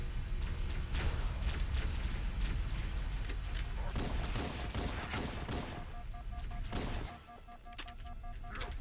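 Steady weapon fire from a player clearing the last enemies in Halo: Combat Evolved, dense overlapping shots and booms over a thick rumbling backdrop, fairly quiet overall, easing briefly near the end.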